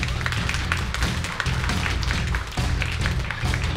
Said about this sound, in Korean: 지금부터 박수와 함께 양 선수를 만나보겠습니다.